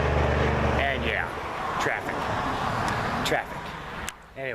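Road traffic passes nearby, a steady low rumble of vehicles with a louder car going by at the start, while a person talks over it throughout.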